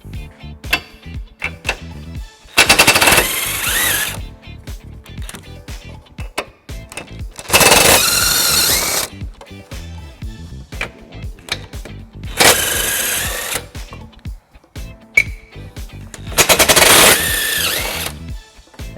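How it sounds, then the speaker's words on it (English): A power tool with an 18mm socket runs off the bumper beam nuts on a 2019 BMW 530i, four loud whirring, rattling bursts of a few seconds each with quieter clicks and handling noises between. "It's held on by 2 nuts on each side, and we're going to remove those using an 18mm socket."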